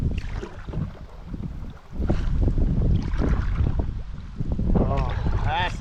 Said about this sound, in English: that's the kind of wind you want. Tailwind.